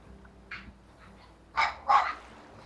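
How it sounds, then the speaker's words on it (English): Dogs in the Slime Rancher video game give a few short, sharp barks, one faint yip followed by two louder barks close together near the end, over a quiet background. "Dogs."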